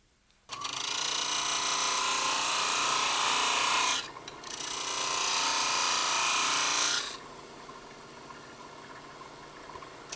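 A wood lathe turns a handbell ornament bead, a loud steady scraping hiss of the tool cutting wood in two long passes with a short break between, then a quieter spinning hum.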